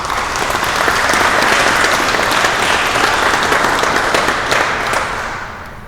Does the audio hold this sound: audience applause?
yes